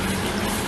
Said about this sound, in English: Now I need the water, and also automatic water supply. It will give me 2 liters of hot water